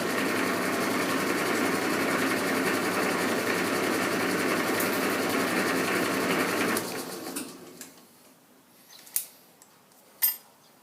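A lathe line boring with the tool winding through hums steadily and loudly for about seven seconds, then spins down, leaving a few sharp metallic clicks and clunks.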